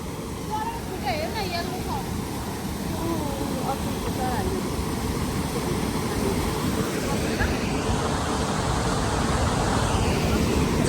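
A river rushes by in a broad, steady roar of flowing water, continuous and fairly close, with faint voices in the background.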